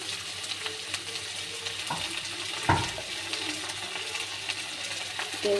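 Ginger garlic paste sizzling and frying in a hot pan, a steady crackling hiss with a brief clatter of a utensil partway through, no talking.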